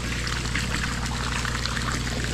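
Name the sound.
water being drained out of a fish tank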